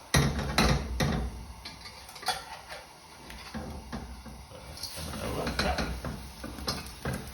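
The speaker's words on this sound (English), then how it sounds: "We can hear it scratching on the bottom now." Crispy Hong Kong seafood noodles fry and scrape against the bottom of a hot pan, giving a close, steady sizzle broken by scratchy stirring and clattering strokes.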